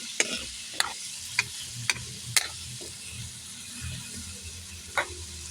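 Vegetables sauté in a pan for a Pinoy-style chicken curry, with a steady soft sizzle broken by several sharp clinks and scrapes of a spoon stirring against the pan, heard close.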